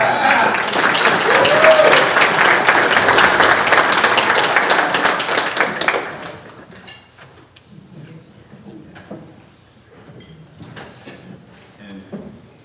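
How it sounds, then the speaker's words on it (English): Audience applause at a volunteer gala: a loud, full burst of clapping for about six seconds that drops off sharply, leaving scattered claps, clatter and room noise. "give me another round of applause"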